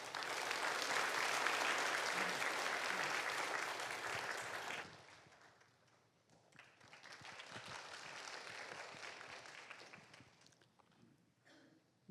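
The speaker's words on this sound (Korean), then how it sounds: "권영인 장로님 나오셔서 보고를 해주실 때 큰 박수로 환영하도록 하겠습니다." Church congregation applauding a speaker, dense sustained clapping that stops abruptly, then a second softer round of applause that fades out.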